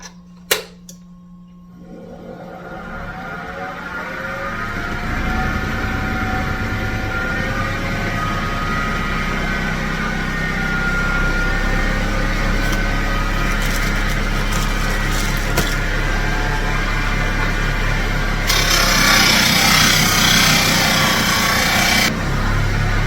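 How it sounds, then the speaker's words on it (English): Electric polishing wheel spinning up and running steadily while a handmade ring is buffed with wax, a loud continuous motor whine and rushing hum that brightens and grows harsher near the end, no voices. "Time to do the polishing, and first thing I got to do is apply the wax to the wheels"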